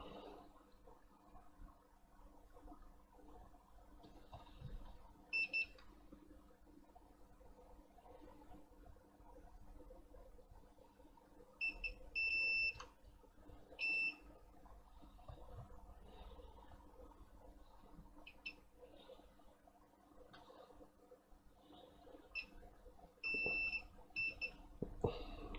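Continuity tester beeping as probes touch contacts on an Atari 65XE or 130XE keyboard: short high electronic beeps in scattered clusters, some doubled or tripled, over a quiet low hum and faint handling noise.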